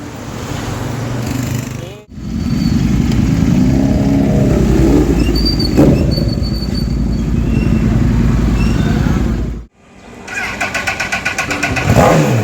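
A 2006 Honda CBR 1000RR with a loud exhaust runs close by, its deep engine roar climbing through revs, cut by two brief pauses, then returning with rapid revving bursts.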